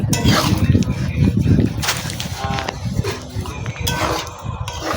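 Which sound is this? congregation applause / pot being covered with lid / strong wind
pot being covered with lid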